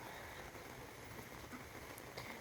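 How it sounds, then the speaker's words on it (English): Heavy rain pours steadily onto a surface at dusk, a dense, even hiss with scattered drops and no pauses, close and continuous throughout. "It's raining so bad."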